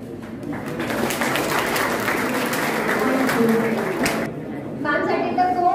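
Loud audience applause at a Satyashodhak team visit to MIT college, dense steady clapping for about four seconds that stops abruptly, followed by a voice speaking.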